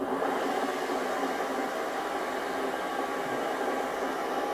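A Chinese mini lathe's motor runs steadily at high speed, giving a continuous even whirring hiss that holds at a constant level throughout with no talking.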